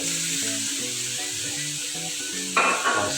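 Beef and dried chilies sizzle in a hot wok as white soy sauce is added, a steady hiss that flares louder near the end, heard under background music.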